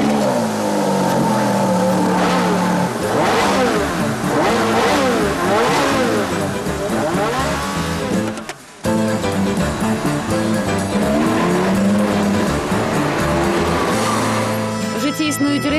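A Ferrari races along Italian mountain roads, its engine loud and close as it revs hard and climbs through the gears in sustained sweeping bursts, with a brief dip midway before the roar resumes.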